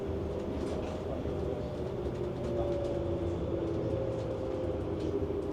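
Steady rumble and hum of a regional diesel railcar travelling toward Bad Harzburg, heard from inside the carriage with a continuous low drone and faint rail clatter throughout, no talking.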